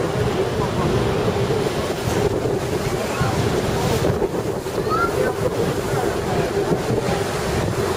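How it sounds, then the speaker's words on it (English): Breeze on Lake Geneva during a paddle boat tour among sailboats, heard as constant wind rushing over the microphone with lapping water beneath it, loud and steady throughout with no talking. "Nice little breeze."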